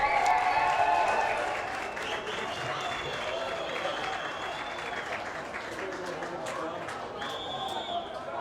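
Spectators at a women's U-24 bronze medal match between Canada and Great Britain clap and cheer in a steady, moderately loud roar that eases after a couple of seconds, while commentators talk over it.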